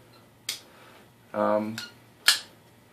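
CRKT Eraser folding knife flipping open and closed, giving sharp metallic snaps and clicks spaced apart with a brief rattling slide between them, close and crisp.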